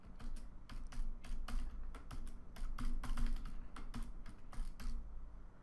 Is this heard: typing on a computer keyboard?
yes